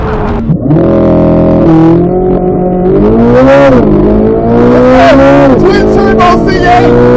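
A twin-turbo Corvette C8 Stingray and a C8 Z06 roar through a drag race, loud engines climbing through gears with a rising, sweeping pitch and a heavy steady drone.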